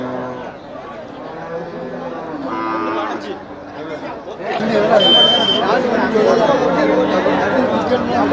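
Cattle at the Melapalayam livestock market, with several moos rising over constant crowd chatter and nearby talking, louder calls in the second half.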